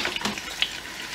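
Small peppers fry in heated oil in a pot, a loud crackling sizzle with sharp pops and spits, no talking over it.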